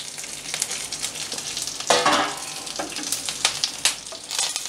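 Curry leaves and tamarind sizzle and crackle in a pan for a light roast, with utensil scrapes and a louder burst of frying near the middle, no voices.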